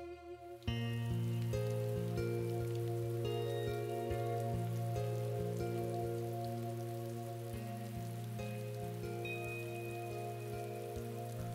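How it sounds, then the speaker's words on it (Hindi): Steady rain falling and pattering on surfaces, a dense continuous hiss that starts abruptly and holds throughout with a constant low background tone and no voices. "काश कि ये बारिश कभी भी ना थम सके।"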